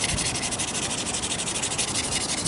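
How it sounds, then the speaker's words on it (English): Sandpaper rubbed steadily across the flat top of a carved stone pipe bowl shaped like a Les Paul guitar, a continuous close, dry scratching hiss with a quick back-and-forth rhythm and no talking. "Go ahead and sand the deck of the bowl"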